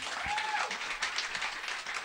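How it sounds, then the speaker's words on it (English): Recorded live applause from a synthpop track plays faintly as a soft, continuous patter of clapping from a crowd, with a brief tonal sweep near the start. "There's claps."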